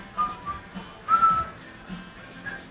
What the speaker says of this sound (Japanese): じゃあ口笛吹こうかみんなで